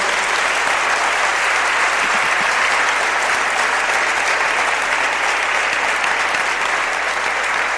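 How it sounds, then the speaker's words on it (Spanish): A church congregation breaks into steady, dense applause that fills the space evenly from start to finish, loud and continuous with no talk on top. "Dale un aplauso a nuestro Rey."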